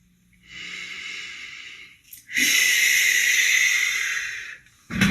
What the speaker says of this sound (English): You're going to squeeze, squeeze, squeeze, breathe in.